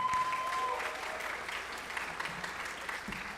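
An audience at a high school class day awards ceremony applauds a scholarship presenter, moderately loud, steady clapping with a brief tone at the start and scattered individual claps standing out.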